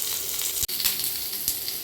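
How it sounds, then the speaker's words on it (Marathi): Onions fry in a pan as the base for a gravy, giving a continuous close hiss of sizzling oil broken by a brief dip and a couple of stirring touches. "मी कांदा परतते आता ग्रेव्हीसाठी"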